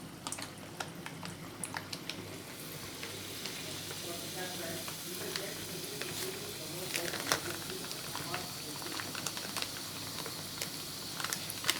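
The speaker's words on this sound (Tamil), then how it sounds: "இப்போது நம்ம ஆயிலில் போடலாம்" Thattai rice crackers fry in hot oil with a steady, close bubbling sizzle, sharp crackles and pops scattered throughout, the frying growing busier and louder toward the end.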